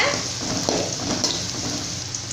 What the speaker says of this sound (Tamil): இப்போ பீன்ஸை வந்து எண்ணெயில் இந்த மாதிரி லைட்டாக வதக்கிக்கோங்க.